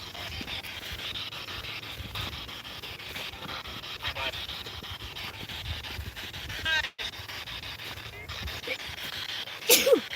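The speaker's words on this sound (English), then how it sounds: "That was still like a half sneeze." A person lets out a half-suppressed sneeze, a short stifled burst near the end that comes over steady outdoor background noise at a nature preserve, with faint voices murmuring earlier.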